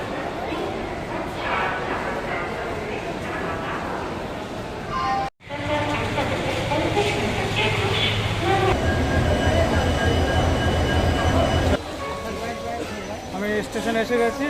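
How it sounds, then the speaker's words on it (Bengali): A busy railway station, with a train standing at the platform. Continuous rumbling and machinery hum run throughout, briefly cut off once, and voices are audible over the noise. "আমি স্টেশনে এসে গেছি আর ট্রেনও দিয়ে দিয়েছে।"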